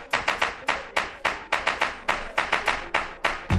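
A crowd at a sound clash claps in a quick, steady rhythm of sharp, loud beats, a repeating pattern of hand claps close to the recorder, ending with a low thump.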